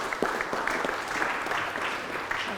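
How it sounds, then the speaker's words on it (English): An audience applauds to welcome John to the stage, a brief burst of steady hand clapping from a room of listeners. "Please join me and welcome John to the stage."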